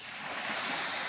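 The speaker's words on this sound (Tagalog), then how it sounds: "Pacific Ocean." Pacific Ocean surf rolls onto the shore at Pandan, Catanduanes, a continuous broad rushing wash of waves that swells slightly, mixed with steady wind noise.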